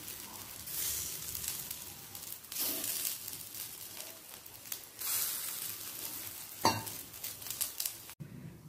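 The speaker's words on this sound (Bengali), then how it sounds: "আপনারা ডুবো তেলেতেও ভাজতে পারেন" Jute leaf fritters fry in oil with a steady, soft sizzle, broken by occasional light clinks of utensils against the pan.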